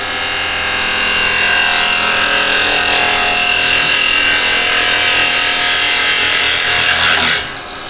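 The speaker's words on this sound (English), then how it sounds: "if you want a push cut, just cut in, rotate, keep it over so you're on the bevel" A woodturning tool making a push cut along the bevel on a spinning wood lathe, a steady, loud, continuous rasping shear that holds evenly for several seconds before dropping off near the end.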